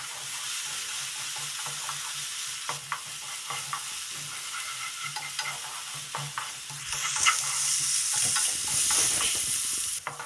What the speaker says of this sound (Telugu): వేసుకొని ఈ అల్లం వెల్లుల్లి పచ్చివాసన పోయేదాకా ఫ్రై చేసుకోవాలండి